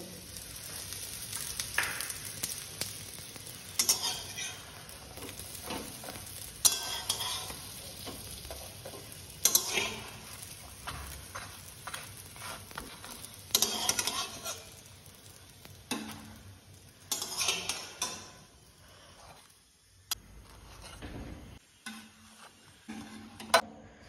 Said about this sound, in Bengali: তেল দিয়ে বানাচ্ছি, ঘি দেবো না।